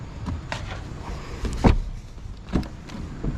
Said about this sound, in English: let me put the seats back